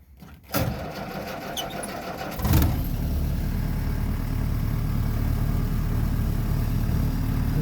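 A 1946 Willys CJ2A jeep engine cranks briefly on a hill, then catches and settles into a steady, close, rumbling idle that continues to the end.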